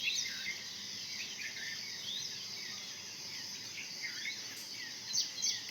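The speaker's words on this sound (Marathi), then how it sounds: "सगळीकडे नुसतं पाखरांचा आवाज येते, फक्त पाखरांचा किलबिलाट" Birds chirp and twitter in a quiet rural village, with sharp, scattered calls over a constant high drone of insects; the whole scene is soft and distant, with no voices.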